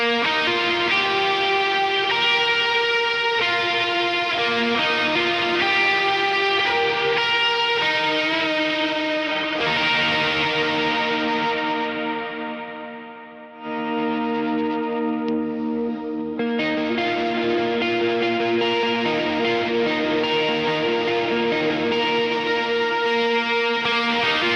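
Electric guitar through a pedalboard with JHS Emperor chorus, POG octave, Glitz reverb and ODR overdrive plays a song intro: sustained, shimmering chords with heavy reverb and modulation, a brief dip midway, then a full swell, no talk.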